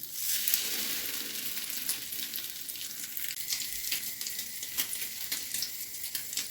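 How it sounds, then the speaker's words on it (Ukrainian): Food sizzling and frying in a pan after being flipped to cook the second side, a steady close crackling hiss with scattered sharper pops, no talking. "Перевертаю і обсмажую з другої сторони."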